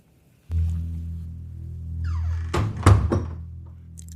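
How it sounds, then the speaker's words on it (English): A door opens and closes as someone walks into a home: a thump, a scraping swing, then a couple of firm knocks of the door shutting, near and alone over a steady low room hum. ""I'm home," calls Magpie, walking in the door and hanging her backpack on the coat rack"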